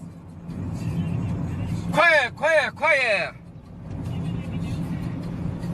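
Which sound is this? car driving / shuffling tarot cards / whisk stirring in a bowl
car driving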